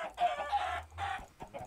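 Minecraft chickens cluck in several short, close, clear bursts with brief pauses between them, and no talking is heard.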